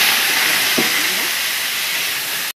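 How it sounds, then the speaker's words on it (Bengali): Small diced potatoes frying in hot oil with cumin seeds give a loud, steady, close sizzling hiss that runs unbroken, then cuts off abruptly near the end. "আলুটাকে ভেজে নিলাম"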